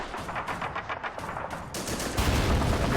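Autocannon fire in the World War II strategy game Men of War: Assault Squad 2, rapid bursts of shots at mid distance amid battle noise, growing denser and louder toward the end.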